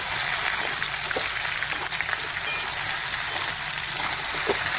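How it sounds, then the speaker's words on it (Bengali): Indian jujube sizzling as it fries in a pan for a Bengali-style pickle, a steady crackling hiss with small pops running throughout, close and fairly loud with no talk. "ভালো করে ভেজে নেবো একটু।"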